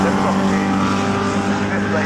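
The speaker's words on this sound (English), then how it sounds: "Colin Simpson now, the Marcus Mantis leads the way." Racing cars at Snetterton, including a Marcus Mantis, a BMW M3 and a Caterham, give a loud, steady engine drone throughout under continuous race commentary.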